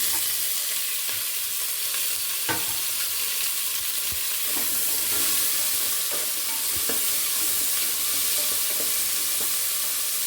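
Onion and tomato fry in a pan for a mung dal toové dish, a steady close sizzle with occasional sharp scrapes and taps as a spoon stirs, no talking.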